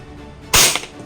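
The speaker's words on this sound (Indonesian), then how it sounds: "Kita coba tembakan saja untuk auto ya teman-teman, untuk lihatlah seperti apa unit ini bekerja ketika kita tembak auto." A Glock 18C gas blowback airsoft pistol running on green gas fires a single sharp, loud burst on full auto that lasts a fraction of a second, with quiet before and after.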